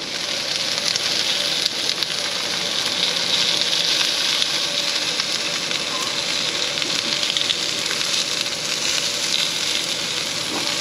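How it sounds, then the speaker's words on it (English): Food fries in a pan over a camp stove while dinner is made at a lakeside campground, giving a steady close hiss with faint crackles throughout and no talking. "So do you hear that sizzle, sizzle, crack, crack? That's the sound of deliciousness being prepared."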